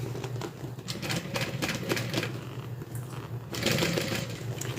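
A domestic sewing machine with a drop-in bobbin runs a heavy 1/8 inch top stitch, a fast rattling mechanical chatter in quick bursts with short pauses, close and fairly loud, with no talking.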